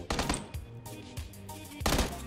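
Burst-mode gunfire in the game PUBG, several short clusters of rapid shots with gaps between them, fairly close and moderately loud, with no talk over it.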